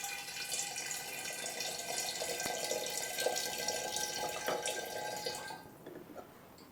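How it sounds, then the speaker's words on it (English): Cold water pours steadily from a jug into a glass demijohn with a bright splashing trickle, close and fairly quiet, stopping abruptly near the end. "First, pour a jug of cold water into the jar."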